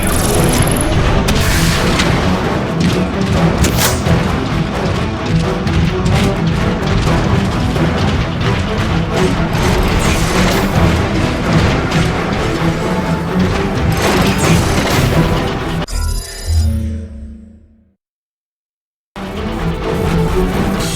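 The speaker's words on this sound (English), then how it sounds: "The neutron gun is activating." A neutron gun powers up during a robot battle in Transformers: Fall of Cybertron, a loud, sustained roar of booming mechanical energy that cuts abruptly to near silence before resuming.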